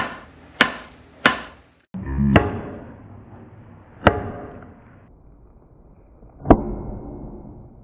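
Hammer blows on hot steel at an anvil, forging a taper into a screwdriver-like point: five sharp metallic strikes spaced unevenly, each ringing briefly, heard close with no talk.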